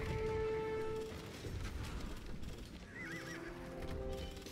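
In the Age of Empires II video game a horse whinnies near the start and again later, with clip-clopping hooves and some mechanical clatter in the battle ambience.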